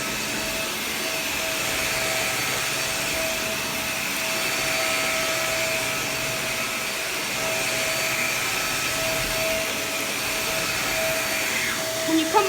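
A Shark Navigator upright vacuum cleaner runs steadily with both its suction motor and brush roll motor on, giving a continuous loud whine with a high tonal hum, close by and alone.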